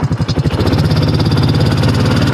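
A SuperSplit HD wood splitter's small engine, with the choke left on, catches after a few sputtering pulses and settles into a steady, loud idle close by.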